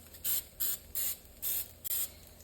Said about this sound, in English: Then I just spray them again with the Pam on top.